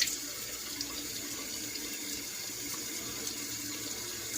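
A steady stream of tap water runs continuously, a broad hiss with no talking over it.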